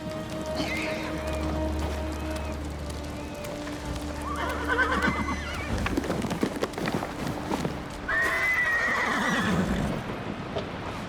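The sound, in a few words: horse neighing in a video game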